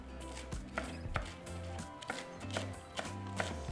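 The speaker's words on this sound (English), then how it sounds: "we're going to chop our cilantro" A knife chops cilantro on a cutting board in quick, even strokes, a close run of crisp taps over low background music.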